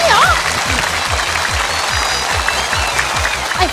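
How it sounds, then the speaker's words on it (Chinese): A variety-show studio audience claps along for a comic stage performer, the applause mixed with voices and a steady rhythmic beat pulsing underneath, loud and continuous. "来鼓掌，加油！"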